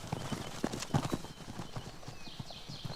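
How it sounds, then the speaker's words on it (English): Konik pony hooves clip-clopping on hard ground at a stud in Poland, a series of close, distinct hoof strikes in uneven rhythm, fairly quiet overall. "The Konik, or Little Horse, is a race of pony from Central and Eastern Europe."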